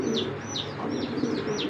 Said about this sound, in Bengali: এখন দেখো পাকিস্তানি গোল্ডেন জাতের কবুতর